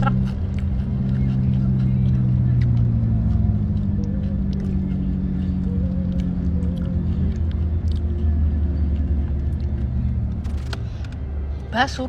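A passing truck's heavy engine rumbles steadily and close for several seconds, its low drone gradually shifting in pitch and then fading.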